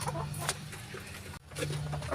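A hen clucks repeatedly in short bursts close by, with a steady low hum underneath and a brief drop in sound partway through.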